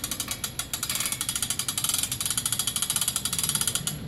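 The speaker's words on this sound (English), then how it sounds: "Somebody should count how many cranks that is." A hand crank ratchets up an antenna mast. It makes a loud, close, rapid clicking that keeps a fast, even rhythm the whole time, with no talking.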